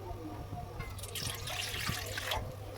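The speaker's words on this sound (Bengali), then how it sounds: "কড়াইতে অল্প পরিমাণে কিছু পানি দিয়ে দেবো" Water splashes and trickles steadily into a metal wok for a couple of seconds, a continuous pouring hiss over a low background hum.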